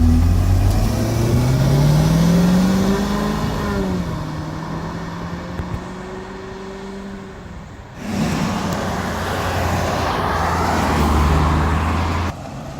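A 2001 Jaguar XKR Silverstone convertible drives along the road, its supercharged engine rising and falling in pitch through gear changes, loud and close with wind and road noise, no talking.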